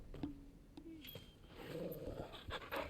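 Torgal, a hound in the video game Final Fantasy XVI, pants quietly in short breathy bursts with a few soft whimpers and growls, faint and close, amid low game ambience.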